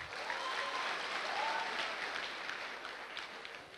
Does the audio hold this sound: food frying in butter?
no